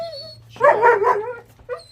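Dogs whine and let out a burst of excited barking and yelping close by, then a short whimper.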